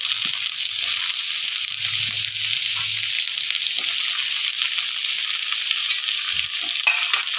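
Vegetables including raw banana, potato and brinjal fry in hot mustard oil with popped mustard seeds in a kadai, giving a steady close sizzle with a few soft stirring knocks, no talking.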